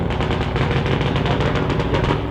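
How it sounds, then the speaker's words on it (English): Firecrackers going off on the back of a motorcycle, a loud rapid crackling burst of pops over a rumbling engine, dense and continuous throughout. "You got firecrackers on the back of this fucking motorcycle?"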